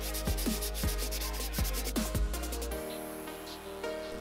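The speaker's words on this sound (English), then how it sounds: "With a little bit of sanding," Short wooden coat rack hooks, cut at angles, are sanded by hand in several brisk rubbing strokes, close and clear, with a steady hum running underneath.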